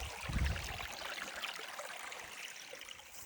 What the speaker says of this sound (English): We're down at the creek now.